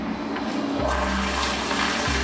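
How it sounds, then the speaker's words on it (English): A toilet flushing in a quiet spa, a close, loud rushing of water that surges in shortly after the start and churns steadily, then shifts near the end as the tank refills. "Then the toilet flushed."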